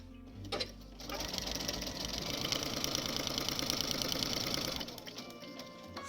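A sewing machine runs a steady, fast stitching burst of about four seconds, stitching a foundation-pieced quilt block along a marked line, starting and stopping cleanly with brief quiet before and after.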